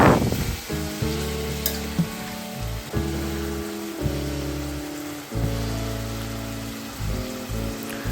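Cut potatoes and eggplant hit hot oil in a pan, setting off a loud, steady close sizzle that swells and dips in bursts as more pieces drop in, with no voices.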